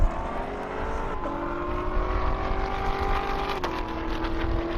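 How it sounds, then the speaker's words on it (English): A Tesla and a Corvette launch side by side in a half-mile drag race on an airport strip, a loud continuous engine and motor roar with rising whine that shifts pitch twice as the cars accelerate away. "Hard to beat that Tesla launch."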